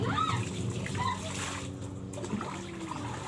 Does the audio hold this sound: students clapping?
no